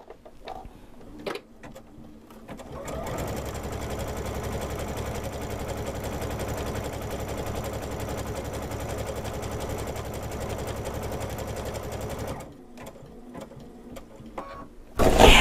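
A sewing machine runs steadily, stitching a mitered corner for about ten seconds in a loud, continuous mechanical whir, then stops near the end.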